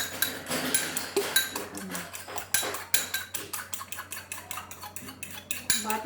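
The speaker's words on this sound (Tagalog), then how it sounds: "Lagyan ko konting gatas. Siguro mga 3 tablespoon nilalagay ko. Tapos i-mix lang." A utensil clinks and scrapes against a dish while stirring milk into a dry mixture, with repeated close metallic taps in an uneven rhythm.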